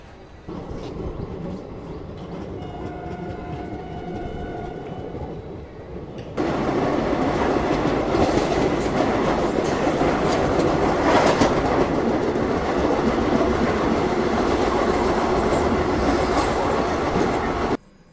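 An Indian passenger train rolls along the rails with a steady, loud rumble and rhythmic clickety-clack, the noise swelling noticeably partway through as the carriage sound grows fuller and more constant.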